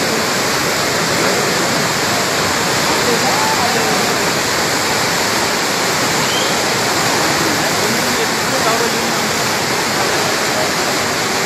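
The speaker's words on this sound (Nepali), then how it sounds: "अहिले म्याग्दी नदीमा यो वर्षकै ठुलो बाढी आएको छ" The flooded Myagdi river rushes in its biggest flood of the year after heavy hill rain, a loud, unbroken roar of churning water close by that holds steady throughout.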